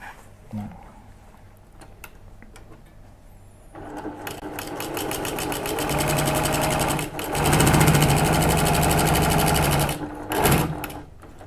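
A Brother PQ150 semi-industrial sewing machine runs fast during free-motion quilting, a loud, rapid mechanical stitching clatter that starts, speeds up, pauses briefly and stops, with a few quiet handling clicks before and after.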